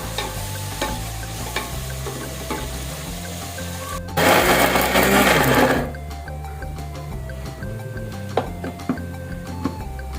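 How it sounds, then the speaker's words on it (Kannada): Onions fry and get stirred in a pan for chicken biryani, making a steady close sizzle with scraping, briefly drowned out midway by a loud mixer-grinder burst, with music playing faintly underneath. "ಈ ರೀತಿ ಚೆನ್ನಾಗಿ ಗೋಲ್ಡ್ ಕಲರ್ ಬರೋವರೆಗೂ ಈರುಳ್ಳಿಯನ್ನು ಬೇಯಿಸಬೇಕು"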